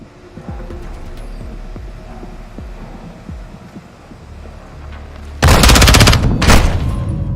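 Gunfire in the video game Call of Duty Modern Warfare 2: after a stretch of low rumbling and scattered thumps, a loud, dense burst of rapid shots erupts near the end, pauses briefly, then fires again.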